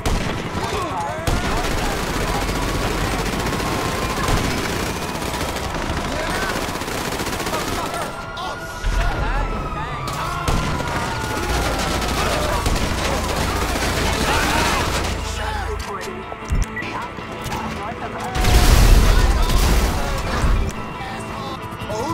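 Rapid bursts of automatic gunfire in GTA 5 rattle on continuously during a five-star police escape, with crashes and impacts mixed in and voices talking over the dense, loud shooting.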